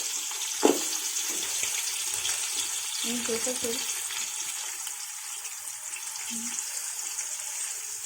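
Onions and green chillies frying in a pan give a soft, steady sizzle, with a few clinks of stirring and a faint voice in the background.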